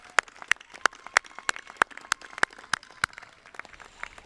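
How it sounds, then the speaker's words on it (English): Crowd at a nursing school commencement claps in sharp, distinct hand claps, a brisk run of strokes that thins out toward the end, with no talk over it. "Join me in giving them a round of applause"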